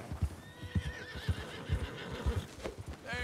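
A white Arabian horse in Red Dead Redemption 2 whinnies with wavering, high cries over steady clip-clopping hoofbeats, nearby and fairly loud, with no talk.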